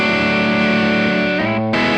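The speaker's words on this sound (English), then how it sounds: "We're checking out the Bandit Supreme Teal Stripe Preamp." Distorted electric guitar played through a Bandit Supreme Teal Stripe preamp, a recreation of the Bandit 112 lead channel, ringing loud and sustained with a brief drop near the end, no voice present.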